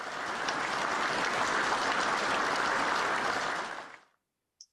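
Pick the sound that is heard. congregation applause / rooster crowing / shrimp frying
congregation applause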